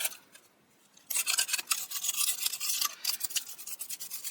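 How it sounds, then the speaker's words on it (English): After a brief quiet moment, rapid scratchy strokes of a small brush tool on a card start up, a quick rhythmic bristly rubbing heard close and continuing steadily to the end. "first I normally go over it with this little brush tool"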